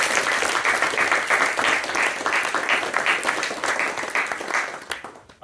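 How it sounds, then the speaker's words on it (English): Sustained audience applause at a student projects showcase, dense steady clapping from a crowd that holds throughout and then tapers off abruptly at the end. "another round of applause for all of our three SPI projects"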